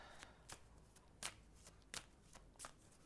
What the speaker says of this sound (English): The shuffling game continues.